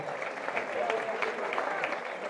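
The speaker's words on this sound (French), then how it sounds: "On peut l'applaudir très très fort." Audience at a carnival gala dinner show in Albi applauds the carnival queen, a moderate wash of scattered clapping with a murmur of crowd noise beneath it.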